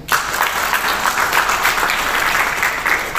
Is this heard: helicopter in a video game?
no